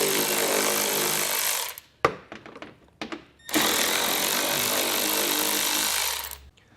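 Power tool backing out 10 mm bolts from the underbody panels of a 2024 BMW X5, loud sustained whirring bursts near the mic, split by short clanks and thunks between runs.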